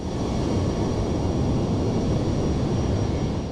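Airbus widebody airliner engines in Microsoft Flight Simulator 2020, a steady, loud broadband roar with a faint high whine, continuous and unchanging throughout with no voices.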